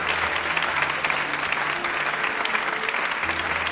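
Loud, sustained applause from a studio audience on a Quran television show, greeting the guest Syed Jalal with dense, steady clapping and a faint low hum running underneath.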